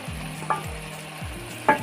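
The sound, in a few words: stirring ginger, cumin and mustard paste into ash gourd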